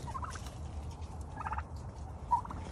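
Turkeys raised in an urban garden make soft, quiet chirping and gobbling peeps in a few short bursts, fairly faint against a low background hum.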